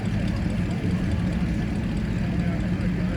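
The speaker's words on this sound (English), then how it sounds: "It's one of those cars so quiet, you can barely hear it running." A 1932 Chrysler classic car at an outdoor car show idles with a low, steady, even hum that carries on unbroken throughout.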